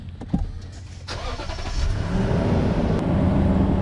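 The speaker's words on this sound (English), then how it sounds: "So just turned on the truck" An offroad truck's engine cranks and catches, then settles into a steady, rising idle rumble that fills the low end, close and fairly loud with no talking.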